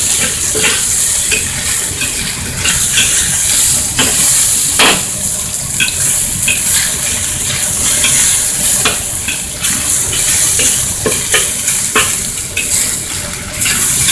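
Chicken pieces browning in a hot pan for moo goo gai pan, giving a steady, close sizzle and frying hiss with occasional stirring scrapes and clinks throughout.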